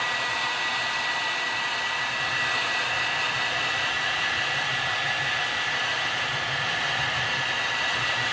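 A heat gun blows steadily and loud at close range, a continuous even roar of hot air used to heat-set paint on a crankbait, with no pauses and no voices.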